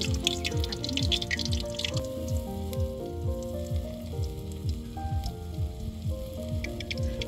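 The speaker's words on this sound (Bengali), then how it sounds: "দ্বিতীয় ব্যাচ বড়া আবার দিয়ে দিব" Shapla flower fritters (pakora) sizzling steadily in hot oil with a soft continuous crackle. Background music plays throughout.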